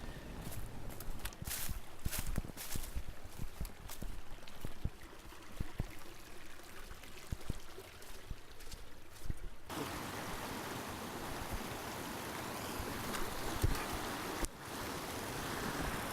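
A mountain river on an Asturias hiking trail rushes and splashes in a steady, dense roar, close and continuous, with some brief clicking disturbances near the start.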